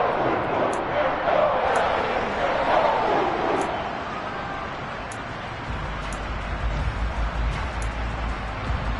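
A stadium crowd at a football game builds to a broad, steady roar ahead of a big third down, distant and sustained, with a commentator talking over it.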